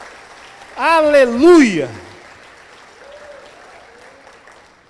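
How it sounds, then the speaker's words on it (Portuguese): A church congregation during a Portuguese-language sermon, with a loud shout of praise from one voice followed by soft, faint scattered clapping and murmur in the background. "Pode aplaudir ao Senhor."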